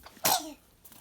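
A boy sneezes once, close and sharp, with a short breathy intake just before and quiet room sound after.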